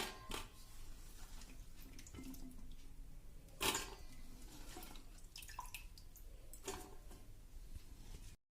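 Washed white potato chips for French fries have their water poured off into another vessel, with dripping, splashing and a few sharp clatters of the pot through the clip.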